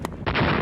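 Russian army drill in a deserted area, with machine guns, artillery and missiles firing together. One sharp report is followed by a sustained, loud roar of heavy gunfire and blasts, with no talk.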